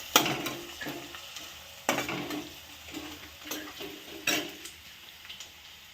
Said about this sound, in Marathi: चाललंय मम्मीचं कांदा परतायचं इकडे